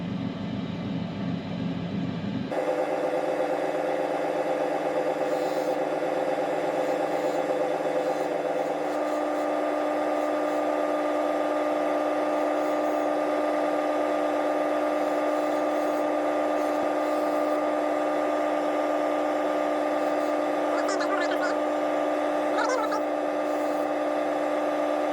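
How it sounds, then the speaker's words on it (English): An opal is cut on a 270 grit grinding wheel, the machine giving a steady loud whirring hum and grinding drone that starts abruptly after a short quieter stretch and runs continuously. "Alright, so I'll start out on the 270 grit wheel."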